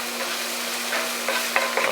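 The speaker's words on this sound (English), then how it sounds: "Alright, so just stir these in" Mushrooms sizzle in a frying pan with a steady hiss as they are stirred, with a few soft scrapes and taps of the utensil near the end.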